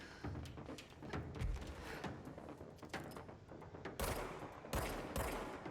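Gunfire in the video game Control rattles in rapid, continuous bursts, loud and close, with heavier blasts near the end.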